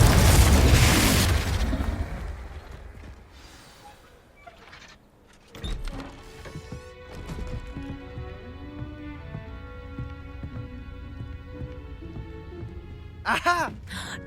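A Confringo spell explosion in Hogwarts Legacy opens with a loud booming blast that rumbles and fades, followed by game ambience, a sliding whoosh, and later bright magical chimes.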